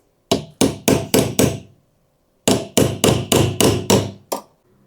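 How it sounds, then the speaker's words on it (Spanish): A bolt taps a door hinge pin back into place: two quick runs of five sharp metallic knocks, then one final strike, each ringing briefly in a quiet room. "le voy a dar unos golpecitos con el mismo perno para hacerla llegar para atrás"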